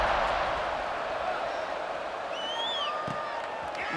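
Stadium crowd noise in the College Football 26 video game before a kickoff, a steady roar of murmur with scattered whoops and whistles rising above it.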